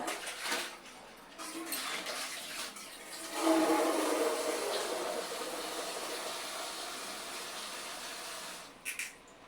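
Fresh green peas, just shelled from their pods, being rinsed in water in a vessel for a third time, with steady splashing and swishing that swells midway and sloshing against the pot, fairly close and without talk.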